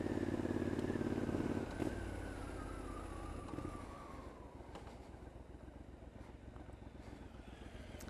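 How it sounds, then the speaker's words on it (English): A motorcycle heading out on the road, its exhaust droning loud and close at first, then easing and fading as it pulls away into the distance, with no talking. "Give Toobi the sound of the exhaust."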